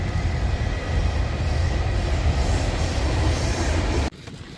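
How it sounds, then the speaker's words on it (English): A CSX freight train rumbles past near the Brunswick train yard, a loud, continuous roar close by that cuts off abruptly near the end, leaving quieter ambient noise. "CSX train, getting closer to Brunswick,"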